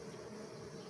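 Honey bees in a hive give a soft, steady buzzing drone, faint and continuous, with no one talking.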